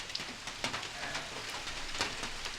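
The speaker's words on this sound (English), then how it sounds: "Starting to rain again on us, ain't it?" Steady, soft rain patters on a surface, with scattered louder drops tapping now and then, no voices.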